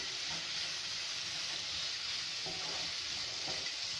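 Fried prawns being stirred into a mango curry in a pan give a steady, close sizzle with a broad hiss throughout and a few soft stirring scrapes.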